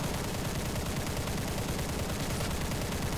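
Machine guns fire in War Thunder aboard an H8K3 in one continuous, dense stream of rapid shots, loud and unbroken throughout with no talking.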